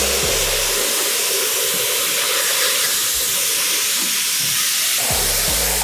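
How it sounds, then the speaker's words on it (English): Water spray hisses loudly and continuously while rinsing cleaner off a dirt bike, a steady close rushing sound with slight shifts in tone as the jet moves, no voices. "Now the fun part is to wash all of the cleaner off."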